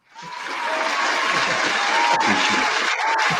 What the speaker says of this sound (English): make a round of applause for him as well